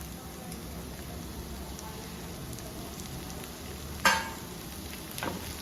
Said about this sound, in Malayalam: ഇനി ഇതെല്ലാം കൂടെ നന്നായിട്ടൊന്ന് വഴണ്ട് വരണം